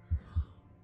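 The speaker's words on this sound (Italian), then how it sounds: "Sentite il battito del cuore?" Heartbeat sound effect in a Minecraft horror map, two deep, soft thumps in a quick lub-dub pair, low and muffled, with a faint hum behind.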